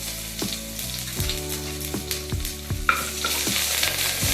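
Crushed garlic fries with mustard seeds in hot oil for a banana stem stir fry, giving a steady sizzle broken by repeated scraping and knocking of a spoon stirring the pan.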